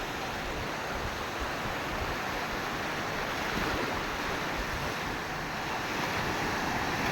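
Sea waves roll in and break on a beach in the evening, a continuous loud rushing surf with wind buffeting the microphone and no voices.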